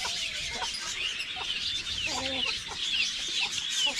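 Jersey Giant chickens cluck in a farmyard pen as feed is put out, a few soft calls rising over a steady background of birdsong and rustling, with no talking.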